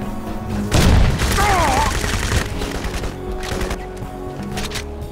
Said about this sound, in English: Time for a grenade, huh?